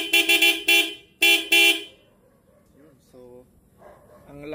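A loud aftermarket horn on a Motorstar Star X175 motorcycle blasts in several rapid toots followed by two longer honks, close and piercing, before it falls quiet and a voice begins talking.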